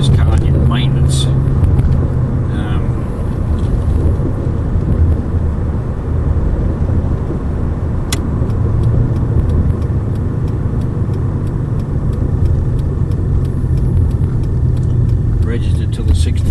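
A firm-riding car with freshly balanced wheels cruises along the road, its steady engine and tyre rumble holding loud and constant throughout, with a voice talking over it.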